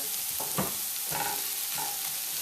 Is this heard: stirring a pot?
yes